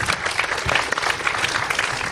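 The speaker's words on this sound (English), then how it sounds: "Let's give a big round of applause." A church audience at a newlywed game breaks into steady, loud applause, with dense, continuous clapping filling the whole moment and no talk over it.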